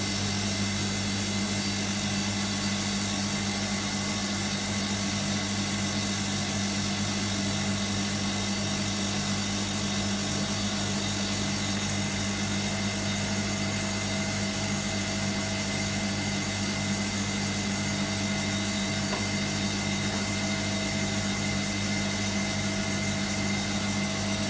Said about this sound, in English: Okay, time for his next spin.